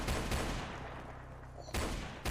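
Gunfire from a weapon in the Roblox video game, a few loud, abrupt bursts close up, separated by brief quieter gaps.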